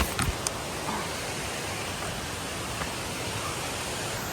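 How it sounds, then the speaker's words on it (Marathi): A waterfall rushing during heavy Konkan monsoon rain, a broad, steady roar of falling water that stays loud and unbroken, with a couple of brief knocks near the start. "तर आता आपण धबधब्याजवळ येऊन पोचलेले आहोत."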